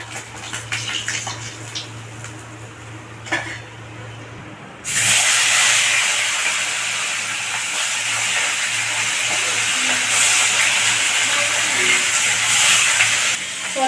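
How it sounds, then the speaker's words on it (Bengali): Katla fish pieces hit hot oil and break into a loud, steady sizzle that hisses on for several seconds after a quieter stretch of kitchen background. "বাকি মাছটা এভাবে ভেজে নেব"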